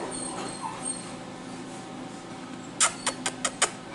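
A three-week-old Cockapoo puppy makes a quick run of five short yips or whimpers near the end, close by, after a stretch of soft, steady background hum.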